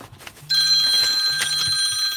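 A phone rings with a bright electronic trill, starting abruptly and continuing steadily, fairly loud and close.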